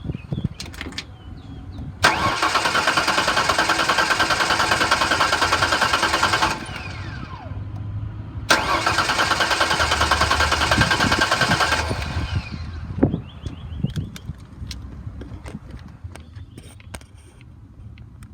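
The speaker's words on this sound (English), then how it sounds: "I'm gonna turn it over so you could hear it. The motor turns over nice, but no start." A 2004 Ford Ranger Edge with a 3.0L engine cranks without starting: two long, steady starter-motor whirs of about four seconds each, close and loud, separated by a short pause and followed by quieter ambient noise.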